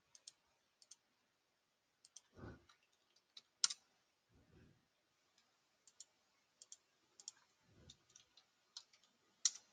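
Sparse, sharp mouse clicks from a computer mouse used in Inventor CAD software, quiet and irregularly spaced, with a few soft low bumps between them.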